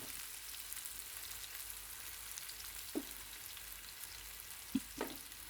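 Cluster beans with turmeric and ginger fry in a pan on a low flame, a soft steady sizzle with a couple of brief stirring knocks near the end.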